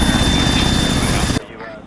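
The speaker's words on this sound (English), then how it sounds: "a chopper flew right over my head and I could not hear" A helicopter in an Arma military-simulation game passes directly overhead, a loud, dense rotor roar filling the scene before cutting off abruptly, leaving quieter ambience.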